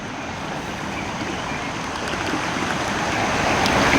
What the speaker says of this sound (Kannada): ಈ ನದಿಗಳ ಜುಳು ಸೌಂಡ್ ಮನಸ್ಸು ಆಹ್ಲಾದವಾಗಿ ಬಿಡುತ್ತೆ